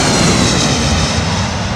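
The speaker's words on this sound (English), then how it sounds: "Tracking Dave and his SAS 320neo." An SAS Airbus A320neo jet at London Heathrow roars loud and close in a brief, dense burst of broadband engine noise, steady throughout with no voices.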